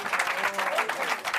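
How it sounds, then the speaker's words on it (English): A short burst of audience applause at a stage hypnosis show, steady crowd clapping close by with voices mixed in. "Give them a round of applause."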